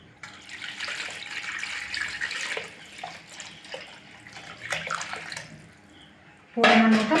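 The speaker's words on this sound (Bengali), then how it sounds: "আমি এবার জল দিয়ে দেবো।" Water poured into a mixed khichuri mixture in a cooking pot, a soft trickling splash through most of the stretch, ending in a louder, brighter gush, with someone speaking in the kitchen.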